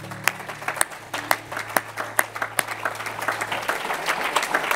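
Church congregation applauding during a service, a mix of sharp individual claps rising into denser clapping, fairly close, with a low sustained tone underneath early on.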